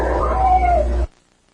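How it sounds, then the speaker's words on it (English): A cat-like meow with a rising and falling pitch, caught on a purported spirit voice recording, sounds once for about a second over a low background rumble and then cuts off abruptly to near silence. "there's a whistle and a meow"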